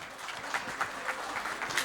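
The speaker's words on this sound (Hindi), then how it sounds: "एक जोरदार तालियां चाहता हूं दोस्तों।" Audience applause at an awards ceremony, the Dr Babasaheb Ambedkar Nobel Awards 2018, comes across as a faint, steady patter of many hands with a few slightly louder swells, heard alone and from a distance.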